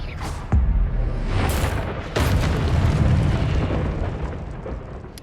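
Expelliarmus spell blasts crack out in a Hogwarts wizarding video game, two heavy booming bursts a couple of seconds apart, each followed by a rumbling, sustained wash of roaring energy that slowly fades.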